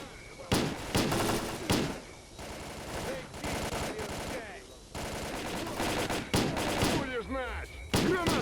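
Monolith gunfire in STALKER: Clear Sky, repeated loud bursts of automatic and single shots that come in uneven clusters across the whole stretch, with voices shouting among the shots.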